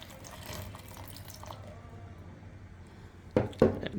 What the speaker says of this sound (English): And we have to add water.